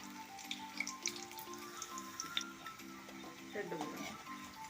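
Drumstick leaf vadas fry in hot oil, a steady close sizzle and bubbling that runs continuously beneath a sustained tonal voice or music in the background.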